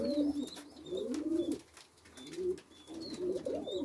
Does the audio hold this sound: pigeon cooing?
yes